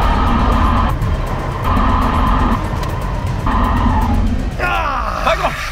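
A car fitted with snow chains brakes hard from about 130 km/h: a loud, steady roar of road and engine noise gives way near the end to rising and falling squealing, grinding tones as the chained tyres scrub.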